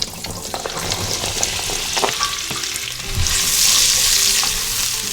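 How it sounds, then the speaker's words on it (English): Carrots and celery frying in warmed extra virgin olive oil give a loud, dense, continuous sizzle that swells stronger partway through, with faint stirring scrapes. "I'm going to add my carrots and my celery to this"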